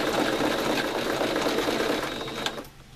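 A sewing machine stitches steadily across fabric while making a simple pony project, a close, continuous rapid whir that slows and stops near the end.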